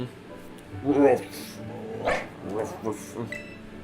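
Mabosstiff, a dog Pokémon in Pokémon Scarlet and Violet, gives a few short barks and yips, mixed closely with a person talking over them.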